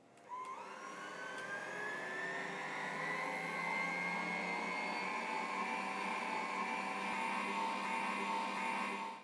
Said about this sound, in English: We've got all the dry ingredients here in the bowl of the mixer with the paddle attachment, and then just the melted butter in a bowl on the side